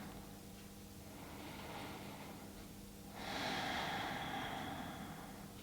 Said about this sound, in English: Long inhales and exhales here.